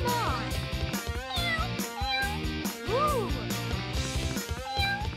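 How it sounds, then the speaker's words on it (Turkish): A cartoon cat meows repeatedly for attention, with rising and falling cries set over busy, bright background music, loud and close. "Kedicik ilgi istiyor."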